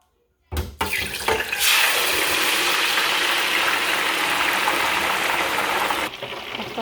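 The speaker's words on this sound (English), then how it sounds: "My oil is hot enough, I then proceed to fry the fish." Smoked fish frying in hot oil in a pan, a sudden loud hissing sizzle that starts abruptly and holds steady and close before easing slightly at the end.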